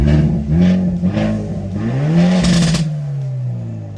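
A tuned Hyundai Elantra N engine runs close by with a rough, throaty idle that climbs into a short rev around the midpoint before settling back to a steady drone.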